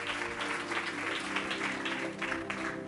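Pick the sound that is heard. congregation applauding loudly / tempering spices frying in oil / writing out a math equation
congregation applauding loudly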